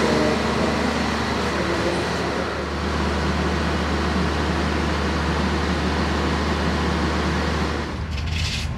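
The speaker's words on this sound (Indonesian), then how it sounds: "begitu keluar kereta itu langsung bising banget ya sama suara pembangkit ini" A power generator near Kutoarjo train station gives a loud, steady droning hum that fills the space without a break, then drops away near the end.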